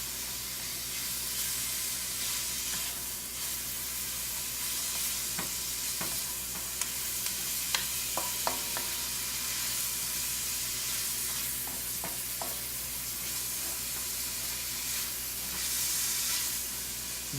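Onion and mixed vegetables for vegetable chop suey sizzle steadily in a pan during stir-frying, a continuous close hiss broken by a few sharp crackles and stirring clicks, with no talking.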